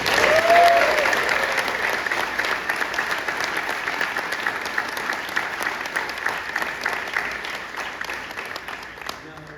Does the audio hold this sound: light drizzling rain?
no